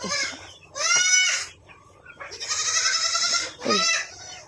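Several goats bleat loudly nearby, long wavering calls overlapping one after another with brief pauses between.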